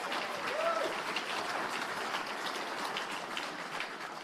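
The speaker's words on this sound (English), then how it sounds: "A round of applause" An audience at an innovation awards ceremony gives steady, sustained applause that holds at an even, moderate level throughout, with a brief faint voice near the start.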